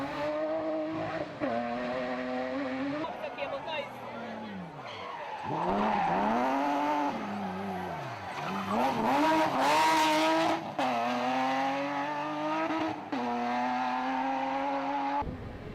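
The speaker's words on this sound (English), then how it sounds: "Alex Whitehead had his 6-cylinder singing, swinging, and sideways, much to the delight of the spectators." A six-cylinder rally car at a spectator stage races and slides sideways, its engine revving hard and rising and falling through gear changes with tire scrub, loud and close throughout.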